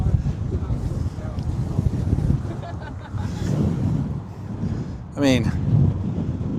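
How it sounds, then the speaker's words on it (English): Strong wind buffets the microphone in a steady low roar outdoors at a Florida lookout with a view of the horizon and downtown, with people talking over it throughout and a brief whistling burst near the end. "Oh, it's windy. It's so windy."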